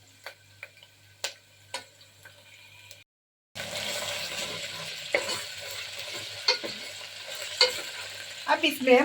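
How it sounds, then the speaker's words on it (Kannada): Onions fry in a pan as the base for a mutton and okra curry, a sizzling hiss that starts abruptly after a few seconds of quiet ticking, joined by intermittent stirring clinks. "ಈರುಳ್ಳಿ ಕಂದು ಬಣ್ಣ ತಿರುಗು ತನಕ ಇದನ್ನ ಫ್ರೈ ಮಾಡ್ಕೊಳ್ಳೋಣ"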